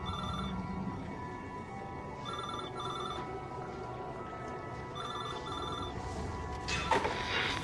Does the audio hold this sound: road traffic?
no